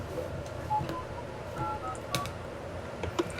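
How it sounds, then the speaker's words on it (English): Phone ringtone with a chiptune feel like Super Mario or Zelda, short beeping melodic tones in a quick pattern, faint beneath a background hum. "Why does it sound like a Super Mario or a Zelda phone ring?"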